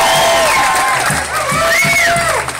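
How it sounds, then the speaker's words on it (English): At an outdoor rally at the Roundhouse in Santa Fe, a crowd cheers and applauds, with high whoops and shouts riding over a bed of clapping and general crowd noise. "a big round of applause for all of you being here today"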